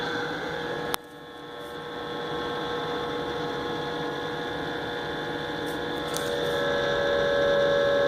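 A vintage 1950s Superior Electric heater with broken heating elements switches on with a click, then its fan runs as a steady tonal hum that slowly gains strength.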